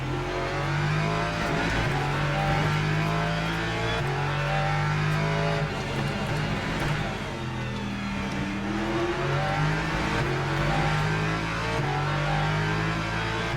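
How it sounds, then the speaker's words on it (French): Race car engines roar continuously in a Le Mans Ultimate sim race as a Ferrari passes a BMW, loud revving with rising and falling gear-change whines throughout. "c'est la BM, la Ferrari a passé la BM."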